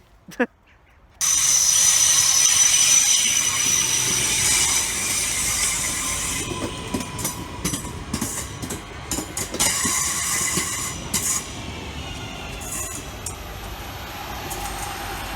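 A train rumbles into a station after a brief quiet start, with a high whine, clattering wheels and hissing brakes continuing steadily.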